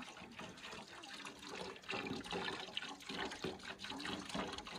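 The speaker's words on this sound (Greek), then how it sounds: "και ο ήχος του νερού εδώ" Steady rushing water beside a rough mountain footpath runs throughout, a continuous broadband splash with no voices, fairly close and moderately loud.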